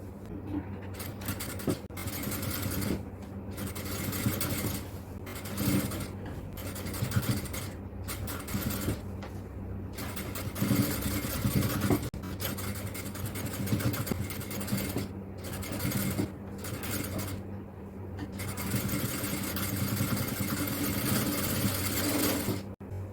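An overlock sewing machine runs in repeated bursts of rapid whirring, broken by short pauses, as it stitches a seam on an XXL yoke nighty.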